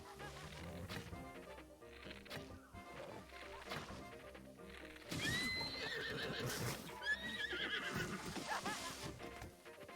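A horse in the video game Breath of the Wild neighs loudly in two rising whinnies over game music and hoof clatter, following a stretch of rhythmic in-game background music.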